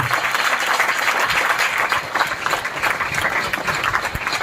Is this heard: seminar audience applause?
yes